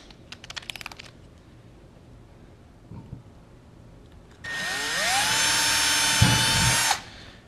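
A power drill with a 5/32 bit bores holes for a KUS water tank sender unit in a van conversion: faint clicks first, then one loud, close whirring burst of about two and a half seconds with no talking.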